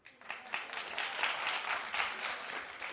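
Studio audience at a daytime talk show breaking into applause, a steady wash of many hands clapping that swells quickly and holds for a few seconds, fairly distant and uniform.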